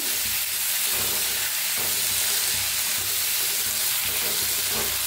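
Washed black horse gram roasts in hot oil, giving a dense, constant sizzle with periodic scraping stirs about every second, close and without speech.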